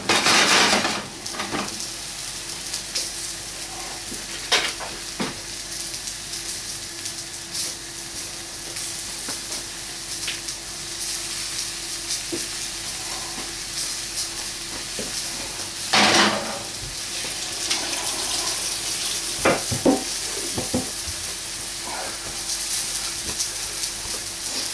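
Liver, bacon and onions sizzle steadily in a frying pan close up while a utensil stirs and scrapes, with sharp clanks against the pan now and then over the constant hiss.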